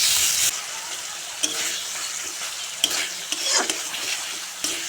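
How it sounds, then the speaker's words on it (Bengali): Spice paste with chopped tomato and salt being stir-fried in a pan for a rohu fish dish: a steady close sizzle broken by several distinct spatula scrapes and clinks, with no talking. "টমেটো দিয়ে আবারও মশলার সঙ্গে ভালো করে কষিয়ে নেব"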